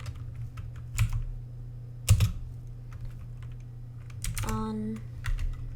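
Computer keyboard typing while writing Unity code for online multiplayer: scattered bursts of clicky keystrokes with pauses between them, up close over a low steady hum, without talk.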